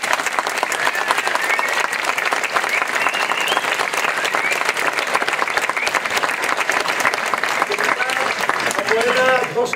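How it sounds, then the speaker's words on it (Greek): Theatre audience at an outdoor performance giving sustained, loud, dense applause that runs unbroken throughout, with a faint voice rising near the end. "Τόσο θερμό χειροκρότημα"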